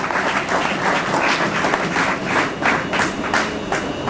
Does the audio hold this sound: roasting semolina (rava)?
no